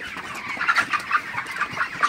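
Broiler chickens on a farm, about 35 days old, cluck in a steady overlapping chorus, the flock heard close and fairly dense with no talking.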